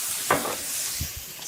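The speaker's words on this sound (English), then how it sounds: "Sizzling." Zucchini sizzling in a pan after a splash of lemon juice, with a steady, close hiss of frying and a few soft stirring scrapes, no talking.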